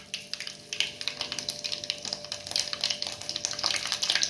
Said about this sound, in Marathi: मोहरी घालून घ्यायची आहे।